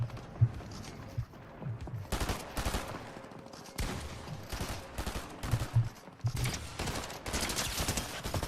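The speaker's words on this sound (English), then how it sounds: "Shotguns, man." Shotgun fire in the Fortnite video game, several sharp broadband blasts in quick bursts with gaps between, loud and close, over a steady game background with no talking.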